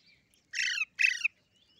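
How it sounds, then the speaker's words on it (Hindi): Two pet parrots eating tomatoes let out two short, harsh squawks in quick succession, close and clear against a quiet background. "देखिए दोस्तों इधर तोते हैं।"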